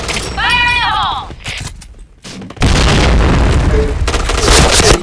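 A grenade blast in a katana-themed shooter video game, a loud boom bursting in mid-clip and rumbling on amid dense gunfire-like noise, with voices calling out over the action.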